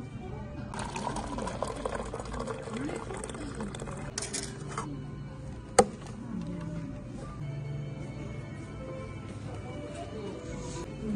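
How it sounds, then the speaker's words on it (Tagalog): Hot water pours steadily into a bowl of food at a poke restaurant in South Korea for about three seconds, a soft rushing splash under chatter and restaurant background noise. "Lagyan ko na mainit na tubig."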